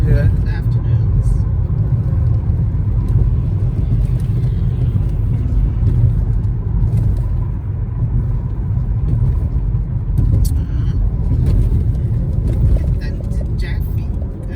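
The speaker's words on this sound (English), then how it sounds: "So this traffic is crazy backed up during the afternoons." Steady low rumble of cars idling and creeping in backed-up afternoon road traffic near a road construction area, continuous and fairly loud from start to finish.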